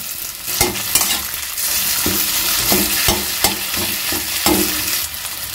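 Hand-mashed potato stirs into frying spices in a pan, with a steady sizzle under repeated scraping strokes of a spoon, loud and close.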